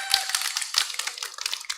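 Audience at a business forum applauding, a scattered patter of hand claps running steadily throughout at moderate volume, with no speech over it.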